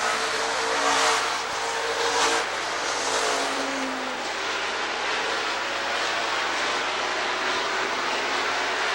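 A pack of stock cars racing at Rockford Speedway in 1994 just after the green flag, a dense, loud roar of engines sustained throughout without any speech.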